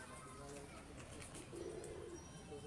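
Old Kamgar breed pigeons cooing softly in a loft, a low murmuring coo rising near the end beneath faint background noise and distant voices.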